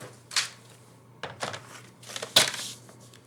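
Card stock being sliced on a paper trimmer while making a handmade greeting card, giving a few short, quiet swishing cuts spaced apart with a low steady hum beneath.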